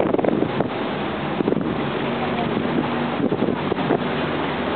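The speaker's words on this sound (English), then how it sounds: "Here I am again, driving a boat for the third time." A boat motor hums steadily on the San Antonio River while wind buffets the microphone, with water rushing along the hull.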